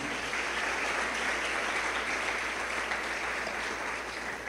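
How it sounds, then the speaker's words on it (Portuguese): A church congregation applauds in praise, a steady, dense wash of clapping from many hands that holds at an even, loud level throughout with no pauses. "Aplauda o Senhor Jesus."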